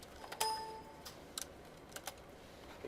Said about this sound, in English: I hit return rather than typing in a number